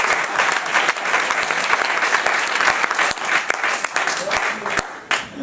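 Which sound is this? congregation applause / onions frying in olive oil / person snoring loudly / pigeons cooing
congregation applause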